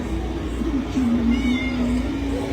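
Cat meowing effects play at a Halloween Horror Nights attraction near a cat lady's house, a sustained drawn-out meow running for a couple of seconds over a noisy crowd and ambient background.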